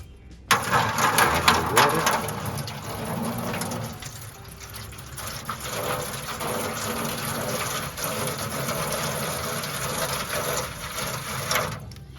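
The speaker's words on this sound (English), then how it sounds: "I'll put about ½ an inch of water in the tray. I've got a pitcher." Water pours from a pitcher into the water tray of a small backyard offset smoker, a sustained splashing gush that runs for about eleven seconds, loud at first and then steadier, with faint background noise.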